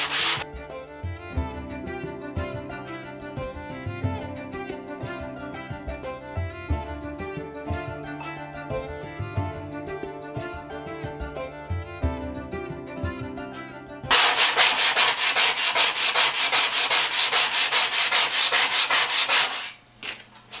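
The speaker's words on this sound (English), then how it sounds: "And then I'll go over with a vibratory sander" A vibratory sander polishes rust off a badly rusted two-man saw blade, a loud, steady abrasive scrubbing that fills the last several seconds after a long stretch of quieter, uneven rubbing.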